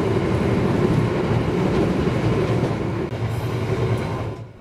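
A Kaligung passenger train, an Indonesian service with executive class, rolls steadily along the rails with a continuous close rumble and rattle that eases off slightly toward the end.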